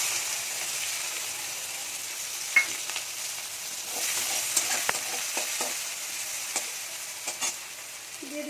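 Chopped onion sizzling in oil left from frying fish, with panch phoron spices, a steady close frying hiss broken by occasional stirring clinks and scrapes of a spoon in the pan, no talking.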